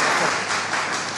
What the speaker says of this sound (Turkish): Alkış, alkış, bir alkış, bir alkış.